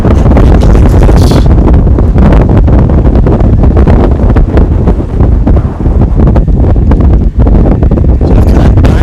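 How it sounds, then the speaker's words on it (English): Strong gusty wind batters the microphone at an outdoor plane-spotting spot beside DFW Airport, producing a loud, continuous rumbling buffet that swells and dips throughout with no clear speech. "I get distracted when there's"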